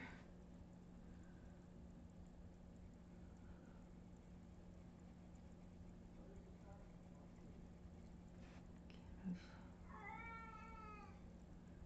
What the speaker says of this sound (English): She meows a lot.